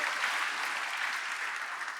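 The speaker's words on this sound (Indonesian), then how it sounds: "Tepuk tangan yang meriah" Applause from a church congregation at a Sunday service, dense steady clapping filling the room throughout the short stretch, with no talk over it.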